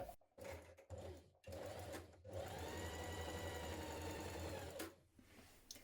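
Sewing machine running in short bursts, then a longer steady stitching run along a seam of children's dungarees fabric with right sides together, a close, buzzing mechanical whir that stops and starts, no talking.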